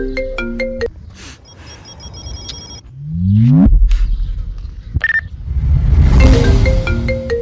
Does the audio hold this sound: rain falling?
no